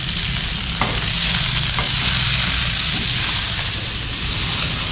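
Salted vegetables stir-fried in a hot wok, a loud continuous sizzle with occasional scraping strokes of the spatula, close up and without talk.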